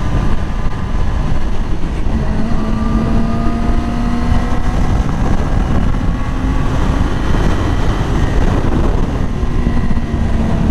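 A 2020 Yamaha R6 motorcycle engine drones loud and close while riding, with rising pitch sweeps from repeated short shifts through the gears over steady wind rush.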